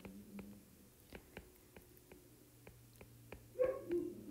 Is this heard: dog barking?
yes